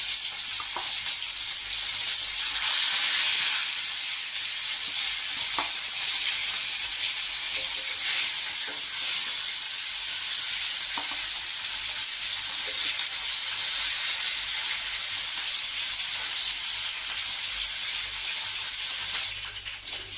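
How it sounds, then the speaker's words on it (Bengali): A loud, continuous sizzling hiss of katla fish frying in hot oil, with scattered pops and crackles, steady throughout and close up. "তেল আমার গরম হয়ে গেছে আমি একে একে মাছগুলো ছেড়ে দিচ্ছি"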